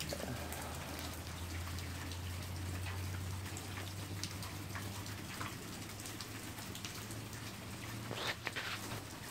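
Steady rain falling outdoors, a continuous soft patter of drops on surfaces with a low hum running underneath, unbroken for the whole stretch.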